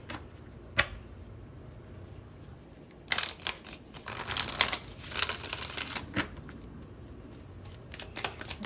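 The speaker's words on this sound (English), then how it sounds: "One more shuffle." A deck of tarot cards being shuffled, with soft riffling and crinkling bursts in the middle and quieter taps around them, close and fairly faint.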